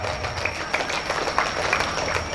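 Applause from an audience at a public Quran memorization test for TPQ students, a steady crackle of many hands clapping that holds evenly throughout at moderate loudness.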